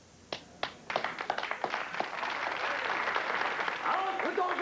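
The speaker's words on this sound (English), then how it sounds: "With those applauders!" Spectators in a courtroom at the Chicago 8 trial start with a few scattered, separate claps that swell into sustained applause, with voices rising beneath it.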